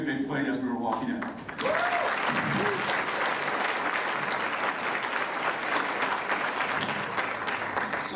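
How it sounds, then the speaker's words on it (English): An audience at a community annual report event applauds the Frost School of Music musicians, sustained crowd clapping with a brief voice and music at the start, then a dense, even wash of applause. "if we could have a round of applause for the Frost School of Music for the incredible music they played"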